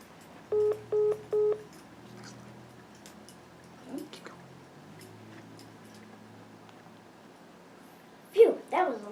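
Three short, clean touch-tone beeps from a telephone keypad sound in quick succession, followed by near-silence with a few faint noises and a brief louder sound near the end.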